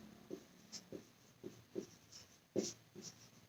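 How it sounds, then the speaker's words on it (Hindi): Words handwritten during a Hindi class, heard as faint, close scratchy strokes in short irregular bursts with brief pauses between them. "शब्द लिखती हूँ।"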